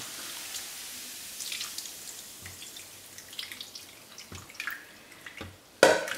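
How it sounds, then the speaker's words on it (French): Ginger marinade poured over pork ribs: quiet, scattered wet drips and soft splashes, with one sharper splash near the end and no talking. "Une fois qu'on a mélangé le gingembre, on va tout simplement le verser. Voilà. Sur les travers."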